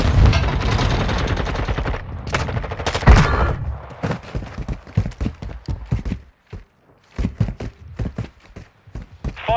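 Gunfire in Modern Warfare 2: loud, close bursts of rapid automatic fire at first, then sparser single shots and short volleys with brief gaps of quiet between them.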